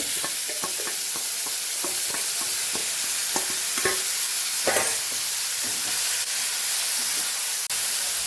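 Marinated cauliflower tipped into a pan of frying ginger and garlic for a Kathiyawadi curry, giving a steady close sizzle with repeated scraping and stirring clatter throughout, no talking.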